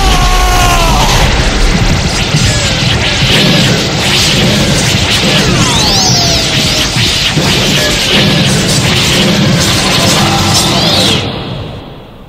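A blazing Galaxian Explosion attack from the Gemini Saint in the Saint Seiya anime, heard as a sustained roaring, crashing blast with whooshing sweeps and rising tones, loud and dense throughout before tailing off at the end.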